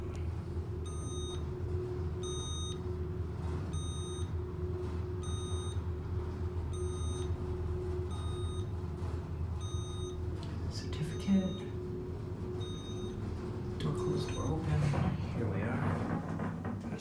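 A Westinghouse Selectomatic elevator, modified by Thyssen, at a Hilton hotel gives a repeating electronic beep at a steady pace, roughly once a second, over a constant low mechanical hum, with a brief clunk near the end.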